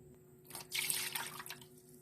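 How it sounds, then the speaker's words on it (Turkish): Milk pours into a mixing basin, a soft splashing stream swelling up and then fading over about a second, faint and close against a low steady hum. "Sütümü leğenime alıyorum."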